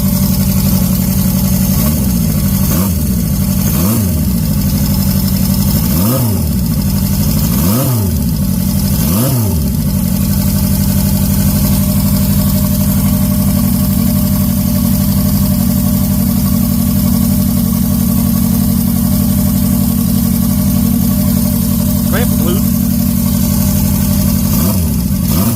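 Honda CB750 motorcycle engine running steadily at idle, with about five sharp throttle blips in the first ten seconds, each rising and falling quickly, then settling into a continuous loud idle.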